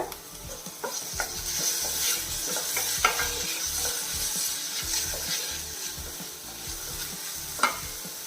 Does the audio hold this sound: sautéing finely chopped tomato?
yes